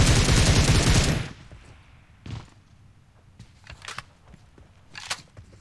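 Gunfire in the mobile battle royale game PUBG Mobile: a dense, loud burst of rapid shots for about a second, then a few scattered single thumps and distant cracks.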